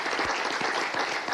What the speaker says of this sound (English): let's just give them a great round of applause